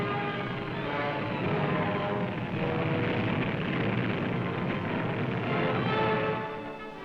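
Berlin airlift planes drone overhead in fog and bad weather, a dense steady engine roar that swells and then fades slightly at the end, with no talking.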